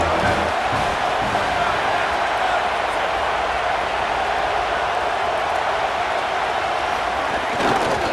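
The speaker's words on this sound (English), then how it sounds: "the Buckeye crowd alive on third down" A dense stadium crowd at an Ohio State Buckeyes college football game roars continuously on third down, a loud and sustained wash of cheering and noise, with announcers talking over it.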